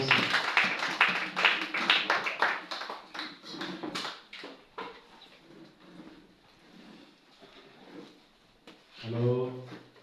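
A church congregation claps and acclaims the Lord, with a brisk, dense run of hand claps at first that thins into scattered claps, followed by someone speaking French at the end.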